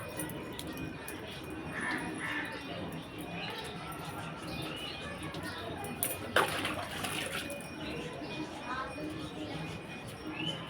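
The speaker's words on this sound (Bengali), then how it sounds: "বিকালবেলা সন্ধ্যার আগ দিয়ে তো জলটা দিচ্ছি গাছে।" Water is poured onto garden plants in the late afternoon before dusk, a soft continuous splashing and trickle with a brief louder gush midway, while someone talks over it.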